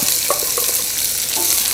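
Onions sizzle and crackle steadily in hot oil, with occasional stirring scrapes from a utensil, close and continuous.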